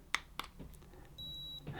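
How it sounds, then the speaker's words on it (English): A couple of soft clicks, then one steady high-pitched electronic beep from an AILE MD1231 non-contact thermometer lasting about half a second, close and quiet. "press the button, and it's made a beep"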